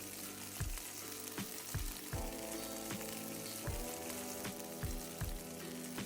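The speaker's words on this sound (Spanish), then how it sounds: "Después de media hora los vamos a dorar en una sartén por todos los lados." Marinated paneer pieces brown in a frying pan, an even, close crackling sizzle with periodic soft thumps as the pieces are turned, and no one speaking.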